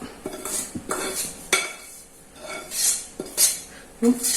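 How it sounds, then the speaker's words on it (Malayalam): A spoon scrapes and clanks against a pot as roasted coconut is stirred into cooked tapioca and beans, giving irregular close metallic knocks and scrapes. "ഇനി നമുക്ക് ഇതിലേക്ക് ഈ വറുത്ത് വെച്ചിരിക്കുന്ന തേങ്ങ ഇട്ട് കൊടുക്കാം"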